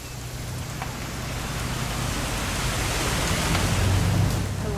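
Steady rain falls in the video game What Remains of Edith Finch, a continuous soft hiss of drops on surfaces at moderate volume, with no voices.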